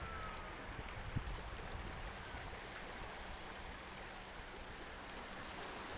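Sea waves on the Sea of Japan off southern Primorsky Krai in summer, a steady broadband wash of surf with wind, continuous and even throughout with no talk.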